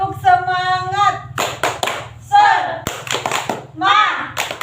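A class of children does a rhythmic spirit-clapping chant, with bursts of handclaps alternating with loud sung and shouted chanting from the group and a teacher's voice.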